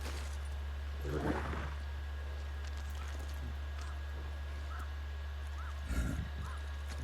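A horse in the video game Ghost of Tsushima: two short snorting, whinnying bursts over a constant low hum, with faint hoof-like taps between them.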